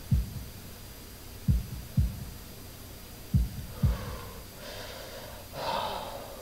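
Heartbeat sound effect from the visual novel Katawa Shoujo: a few dull, low thumps in double beats, moderately loud, followed by soft breathing sounds near the end.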